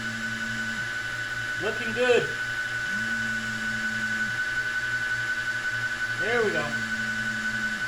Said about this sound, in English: Come on, drill.